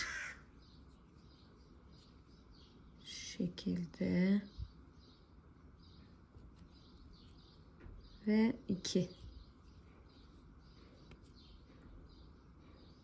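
Two bursts of raspy bird calls, caws or squawks, sound from outside through an open window amid a quiet room hum, while a person doing needle lace speaks softly.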